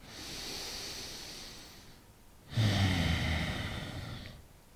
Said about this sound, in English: See if you can find that in some powerful breaths here.